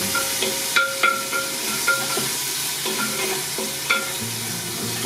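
Tomato hits a hot, crisped frying dressing for lentils with fish, giving a steady loud sizzle broken by repeated scraping stirs and light clinks of a utensil against the pan.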